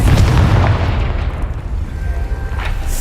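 Confringo blasting spell from Hogwarts Legacy going off as a loud booming explosion at the start, followed by a rumbling decay and a fainter second burst near the end.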